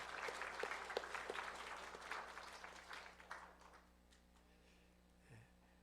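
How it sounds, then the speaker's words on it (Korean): A church congregation claps for the choir after a morning worship service, a brief burst of applause that thins out and fades to near quiet. "우리 박수로 한번 격려하셨으면 좋겠습니다"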